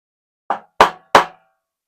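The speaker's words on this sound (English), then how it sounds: "Going to apply a little bit of persuasion with the hammer." Three sharp hammer taps drive metal hardware into the wood of a portable Moxon vise, each strike a crisp knock with a short decaying ring, evenly spaced and close by in a quiet workshop.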